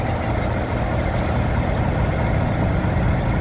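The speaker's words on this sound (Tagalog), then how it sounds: "Traffic." Heavy evening road traffic at Sto Rosario, Zaragoza, with idling trucks: a dense, continuous low engine drone that stays steady and loud throughout.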